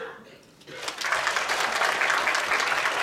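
An audience at a climate change adaptation partnership conference breaks into applause after a brief quiet moment, the clapping swelling quickly and holding as a dense, steady roar.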